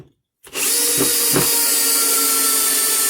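Bosch 12V brushless drill/driver driving 3-inch Phillips-head exterior screws into small timber blocks, starting abruptly after a brief silence and whirring loudly and steadily, with slight load changes as the screw bites.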